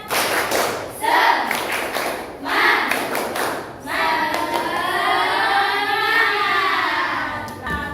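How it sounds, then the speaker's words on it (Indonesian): Students in a morning classroom do a rhythmic spirit clap, sharp hand claps in uneven bursts followed by voices chanting together, loud and close. "kita tepuk semangat dulu ya. Tepuk semangat."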